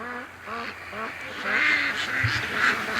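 Several ducks honk and quack in a steady run of close calls, with a soft hiss of rain falling around them.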